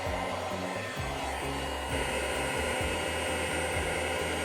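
Heat tool blowing hot air over epoxy on a craft tumbler, a steady close rushing hiss that continues throughout with slight shifts in tone, no voices.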